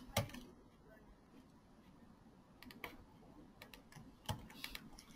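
Computer keyboard typing while signing into an online tax account, quiet scattered keystrokes with a couple of sharper taps, no talking.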